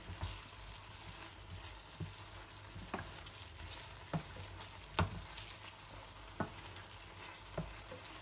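Ridge gourd goes into cooking toor dal and is stirred in, giving a soft, steady bubbling sizzle with sparse spoon clinks and taps against the pot every second or so.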